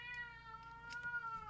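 A house cat gives a long, wavering meow that stretches through the whole moment, clear and fairly close in a quiet room where card-making is under way, with no speech.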